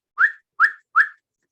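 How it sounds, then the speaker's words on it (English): Three short, sharp emergency whistle blasts, evenly spaced and equally loud, sounded as a signal for help with silence between and after. "the code for help is 3 blasts on the whistle."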